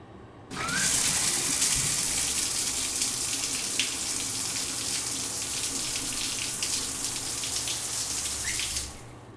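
Shower water from The Milgram Experiment video game runs in a steady, loud, close hiss that starts abruptly, keeps an even flow for about eight seconds and then cuts off.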